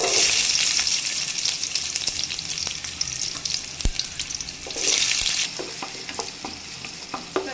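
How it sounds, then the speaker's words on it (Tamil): Onions sizzle and fry in hot oil with fenugreek seeds for an anchovy dried-fish thokku, a steady loud crackle with occasional stirring scrapes and a brief burst of harsher sizzling midway. "வெங்காயத்தை வந்து பொன்னிறமாக வதக்கிக்கலாம்"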